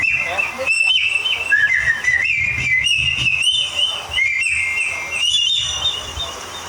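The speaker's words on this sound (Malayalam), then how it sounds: "നമ്മുടെ രാവിലെ എണീക്കുമ്പോൾ കേൾക്കുന്ന പക്ഷികളുടെ ഒരു ശബ്ദം." Birds sing in the morning: high, bright whistled chirps and trills repeat continuously, near and loud, with short gaps between phrases and a low background hum underneath.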